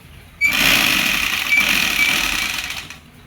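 A sewing machine runs in one continuous burst of about two and a half seconds, stitching a child's collared co-ord set, a close, steady high mechanical whir with no talk over it.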